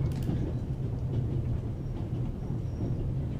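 Steady low rumble of the Orient Express passenger train, Paris to Istanbul, rolling along the line in a video game, a continuous even drone with faint high clatter and no talk.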